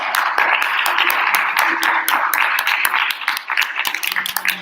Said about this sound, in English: All right, clap for Chanel.